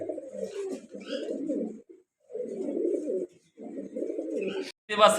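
Pigeons coo at a pigeon market where birds with eggs and chicks are sold: close, throaty cooing in three long rolling phrases separated by short pauses, with a brighter rustle at the end.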